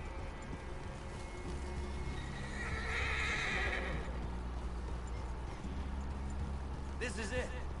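A horse in the video game Red Dead Redemption 2 whinnies in a long, shrill neigh midway, with hoofbeats and low rumbling underneath, and a brief second call near the end.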